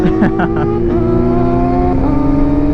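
A Kawasaki 4R motorcycle revs hard for a wheelie, its loud, close engine note climbing and shifting pitch in a couple of surges, with a voice talking over it.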